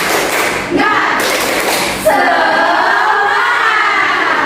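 Schoolchildren in a classroom perform the tepuk semangat clapping chant, a loud, dense burst of claps and shouted voices that swells and holds steady.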